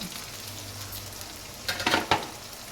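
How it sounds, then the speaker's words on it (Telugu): Drumstick pieces frying in a tomato egg curry, a steady soft sizzle with a few louder bursts of crackle and stirring near the end, no voices. "వేసి ఒక 2 నిమిషాలు వేగనివ్వాలి"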